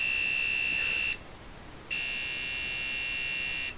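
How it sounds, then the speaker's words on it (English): A steady high-pitched electronic beep tone from an Ideal MANIAC handheld electronic game sounds for about a second, stops briefly, then resumes for nearly two seconds, loud and close with no other sounds. "it plays random beeps"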